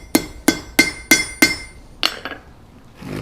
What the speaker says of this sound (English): Now I'm going to be using another hardy tool, a chisel, to cut off the stem